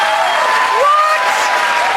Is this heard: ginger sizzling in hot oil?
no